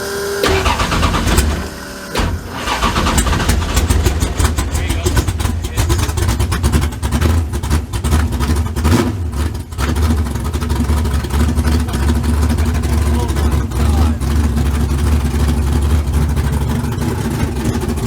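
A loud Ford Mustang GT engine rumbles continuously close by, a deep steady idle filling the whole stretch with no talk over it.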